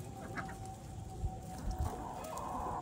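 Chickens clucking on a farm, scattered low calls under a steady outdoor background with faint bird sounds, no talk.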